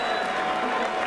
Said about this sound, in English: a round of applause for two warriors in the heavyweight division